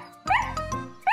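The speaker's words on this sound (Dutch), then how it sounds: "Ze kwispelt met haar staartje en blaft vrolijk" A cartoon dog barks happily in a few bright, yippy bursts, close and clear, with a short pause between the barks.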